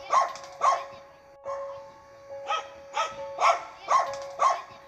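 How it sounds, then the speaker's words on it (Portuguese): Dogs bark at night, a series of sharp barks in uneven bursts, some paired, others single, sounding somewhat distant over a steady faint hum, with no talk. "os cachorros novamente começaram a latir."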